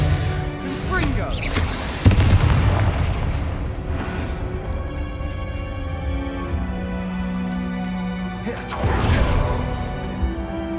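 Confringo fire-blast spell explosions in the Hogwarts Legacy video game, a loud booming burst around two seconds in and another swelling blast near nine seconds, set against a continuous rumbling game soundscape.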